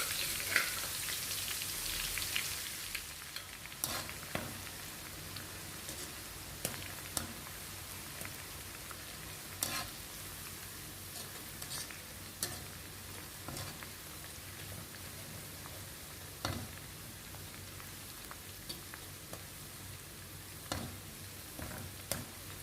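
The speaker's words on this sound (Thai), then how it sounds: "ลุงก็จะเจียวในส่วนของสามเกลือก่อน ใช้ไฟกลางในการเจียวอย่าใช้ไฟแรงนะคะ" Garlic, coriander root and pepper frying in plenty of oil over medium heat, a steady crackling sizzle with scattered sharper pops throughout, no voices.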